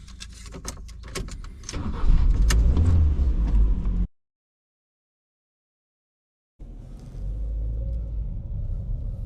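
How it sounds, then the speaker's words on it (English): A Ford Fiesta Mk6 that sat on a driveway for twelve years rumbles along on its first drive, engine and road noise heard from inside; the sound cuts out abruptly for a few seconds, then the steady rumble resumes. "This, everyone, is the first drive, literally the first drive in Freya, the Ford Fiesta"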